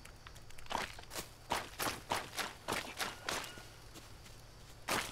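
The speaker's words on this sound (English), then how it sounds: "Feet, like I'm running in mud or something." Footsteps run through mud in the survival video game Green Hell, a quick series of soft, squelching thuds at an irregular running rhythm, close and clear with no talking.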